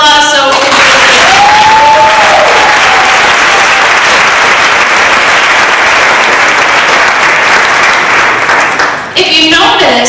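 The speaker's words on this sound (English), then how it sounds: "give me a round of applause so we can do it." An audience at a speech evaluation contest breaks into loud, sustained applause lasting several seconds, with a voice speaking briefly at the start and end.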